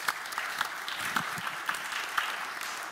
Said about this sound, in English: So a round of applause for all those folks helping to make this event happen.